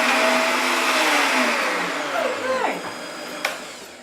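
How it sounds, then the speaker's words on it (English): A blender whirs loudly as it purées a raw lemongrass marinade, a steady high motor roar whose pitch shifts and sweeps as the load changes, with voices faintly underneath. "We'll just try the end off the lemongrass here and throw that in the blender."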